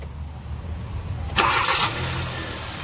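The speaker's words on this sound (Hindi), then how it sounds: "कर गाड़ी स्टार्ट कर" A car engine, just fitted with a replacement ignition coil after a flashing check engine light and low pickup, cranks and catches at once, then settles into a steady, close idle.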